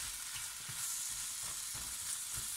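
Vegetables fry with a jalfrezi spice mix on a large stove, a steady close sizzle with faint stirring scrapes and no voices.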